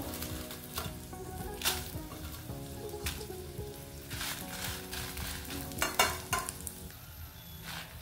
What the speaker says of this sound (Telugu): ఆయిల్ వేడయ్యాక ఇందులోకి మిరపకాయలు వేస్తున్నాను